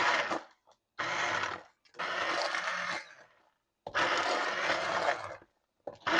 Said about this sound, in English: I'm going to use the immersion blender to puree the rest of the ingredients.